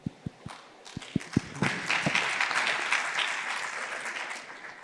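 A summit audience on mining begins with a few separate sharp claps, then breaks into fuller, sustained applause that swells and holds at moderate loudness before slowly easing off.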